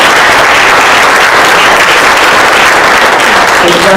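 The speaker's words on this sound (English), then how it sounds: "give them all a round of applause for their great report" Loud, sustained applause from a room at a county board meeting, dense clapping filling the whole stretch without a break.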